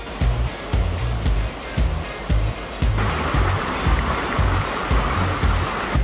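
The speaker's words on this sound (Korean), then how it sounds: "계곡의 물소리가 정말 아주 반갑게 좀 맞이해 주고 있습니다." Valley stream water rushing beside a forested Jirisan mountain trail, a constant close wash of flowing water with rhythmic low thumps of footsteps under it.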